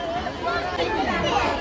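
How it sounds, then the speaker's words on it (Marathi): Crowd chatter from visitors waiting in the ticket queue at Byculla Zoo in Mumbai, a steady murmur of many overlapping voices close by. "गर्दी बघा किती आहे।"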